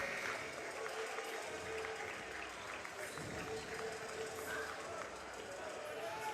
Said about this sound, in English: Rockingham County girls coming out of the locker room as the Rockingham County fans cheer them on